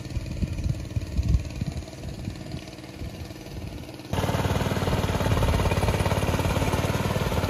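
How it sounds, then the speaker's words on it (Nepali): A tractor engine churns steadily nearby while puddling a muddy rice field for planting in Gorkha, Nepal, growing louder and rougher halfway through as it labors on. "यसरी ट्र्याक्टरले हिलाउँदै साउँदै गर्दै हुनुहुन्छ"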